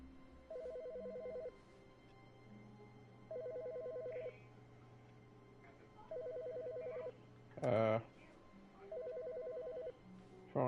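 Telephone ringing in The Stanley Parable, four evenly spaced electronic ring bursts about three seconds apart over a low room hum, with one brief louder sound between the last two rings.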